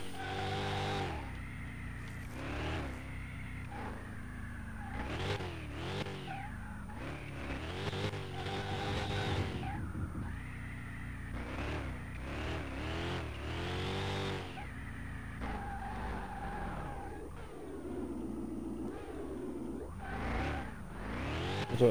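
A classic Bolt Reptilita R2 Corvette in Car Mechanic Simulator 2021 revs and drives with heavy oversteer, its engine note rising and falling with repeated acceleration and slight tire squeal, close and continuous.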